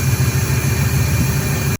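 A 1968 Oldsmobile Ninety Eight big block V8 with an open element air cleaner and cherry bomb muffler idles close by, giving a loud, steady low rumble with a lumpy pulsing beat for a couple of seconds.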